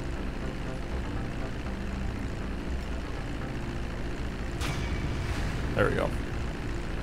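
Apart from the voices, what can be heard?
airplane flying in video game Grand Theft Auto V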